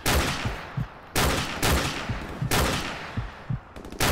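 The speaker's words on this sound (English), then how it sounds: "And they're shooting that way." Rapid bursts of automatic gunfire in Call of Duty 4: Modern Warfare, several loud close volleys separated by short pauses, with sharp repeated cracks throughout.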